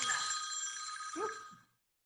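A mobile phone ringtone plays loud and close, a bright sustained electronic tone that holds for over a second. A brief voice sounds near the end before it cuts to silence.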